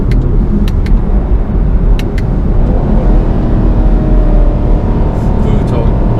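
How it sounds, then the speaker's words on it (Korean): Loud, close in-cabin drone of a 2017 Chevrolet Camaro SS engine during a downshift, a dense, steady rumble that holds throughout while someone talks over it. "보통 변속기는 이렇게 다운시프트 하면은 내려가는데"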